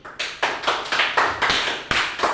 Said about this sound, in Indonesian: saya mau tepuk tangan dulu